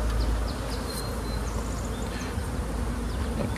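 Honey bees swarm over an open hive frame around their queen, a dense continuous buzz close by with individual bees droning past, no voices.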